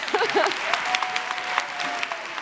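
Audience applause for a laureate at a university thesis-in-180-seconds final, a dense burst of clapping with a brief voice over it at the start and a faint tone underneath.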